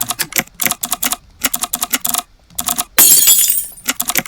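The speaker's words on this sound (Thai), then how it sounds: "ถ้าพิมพ์ตามได้ถูกต้องก็จะเป็น มีเสียงกดปุ่มคีย์บอร์ดขึ้นมา" Keyboard key-press sound effects from a Thai typing-practice program, a rapid series of sharp clicks in bursts with short gaps, plus one brighter, longer crash-like burst in the middle, loud and close with no talk.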